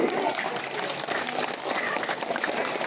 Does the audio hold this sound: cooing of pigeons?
no